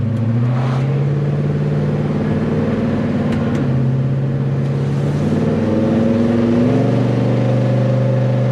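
A 1970 Chevelle engine fitted with a Holley Double Pumper carburetor runs at light throttle, a steady, loud, close rumble with small rises in revs and no voices.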